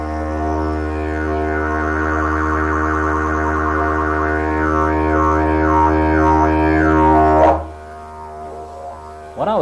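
A didgeridoo drones steadily and low while the player's tongue makes wavering, swooping overtones that imitate a boomerang flying through the air. The drone is loud and continuous, then breaks off abruptly near the end and briefly restarts.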